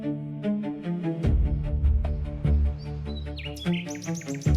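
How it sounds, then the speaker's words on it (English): Gray-crowned crane calls in open Uganda and Kenya grassland, a series of loud repeated honking notes with rich harmonics, joined later by higher chirping calls, all close and clear with no talk. "This is the gray-crowned crane, and its name fits."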